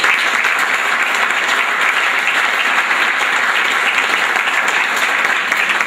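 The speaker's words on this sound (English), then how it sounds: "Let's have a round of applause for all of you." Loud, sustained applause from an audience at a high school senior sports banquet, steady clapping filling the room for several seconds without a break.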